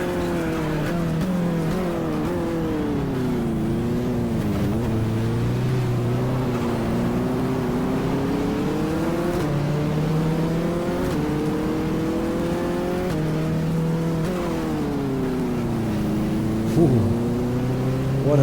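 Race car engines in the GTR2 racing game drone steadily, rising and falling in pitch as the car shifts gears and accelerates, loud and continuous with no talk.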